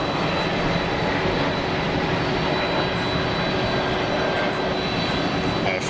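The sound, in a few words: Air France jet airliner departing Geneva Airport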